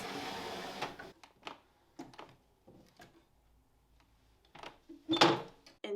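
Old wooden sewing machine cabinet in an 1887 Victorian house, holding a Wheeler and Wilson machine, is opened with a series of scattered wooden knocks, thunks and creaks, close and fairly quiet, ending in a louder clunk.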